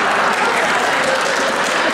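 Studio audience applauding on an Armenian TV talk show, a steady, dense burst of clapping filling the room for about two seconds with no voices over it.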